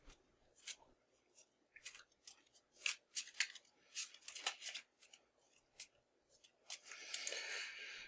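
Crisp riffling bursts of a Dutch Blitz deck being shuffled, several short flurries close by and fairly quiet, ending in a longer sustained shuffle.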